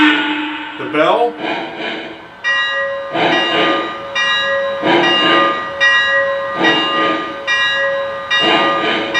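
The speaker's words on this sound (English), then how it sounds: "if you hit the bell button real quickly, you'll just get a single shot of the bell" The bell on a Lionel Legacy EM-1 2-8-8-4 model steam locomotive rings in steady, evenly spaced clangs, loud and close, continuing throughout after a short opening sound.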